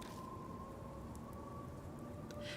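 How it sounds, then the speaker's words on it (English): Soft, steady rain falls in the Death Mark video game, a quiet, even patter with a faint sustained tone beneath it and no talk. "The soft pitter-patter of rain permeates the area."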